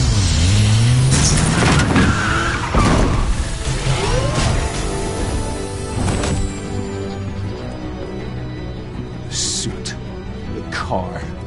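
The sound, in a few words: car engine in Batman Telltale video game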